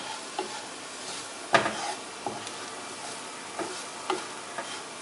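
Kerala-style prawn masala for chemmeen pollichathu being stirred in a frying pan: a steady low sizzle runs underneath occasional spoon scrapes and knocks against the pan, close by and without talk.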